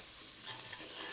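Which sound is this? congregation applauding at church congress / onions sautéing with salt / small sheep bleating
onions sautéing with salt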